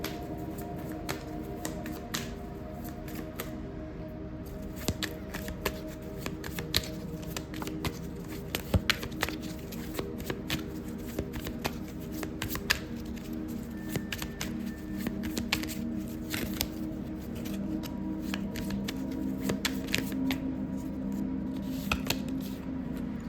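Tarot cards being shuffled and handled during a reading: a steady run of soft riffling and dense clicking taps that carries on without a break, close by, over a constant low background hum.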